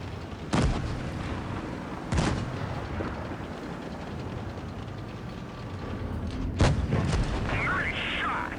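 Loud tank cannon shots in World of Tanks Blitz, a T95 battle: three heavy booming blasts spaced a few seconds apart over a constant rumbling engine and battle din, with a commentator's voice talking through it.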